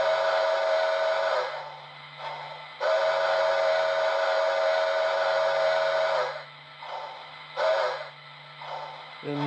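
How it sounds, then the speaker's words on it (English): Steam whistle from a Lionel HO scale Polar Express model train with Railsounds sounds close and loud, first in long sustained blasts, then in a few short choppy bursts. "you can play with the whistle, just real short bursts"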